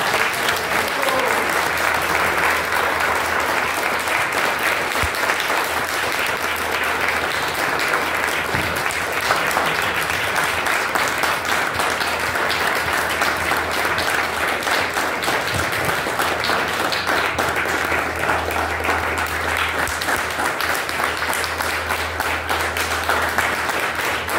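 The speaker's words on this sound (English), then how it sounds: "Let's give them a big round of applause." An audience at a talk gives sustained applause, dense steady clapping from many hands that stays loud and even throughout, with no voices on top.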